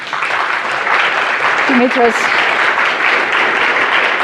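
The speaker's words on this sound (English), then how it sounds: "please welcome him together with me on stage with an applause" An audience at an OOPSLA 2023 programming-languages conference applauds a keynote speaker with steady, loud clapping, while a host's voice speaks briefly over it.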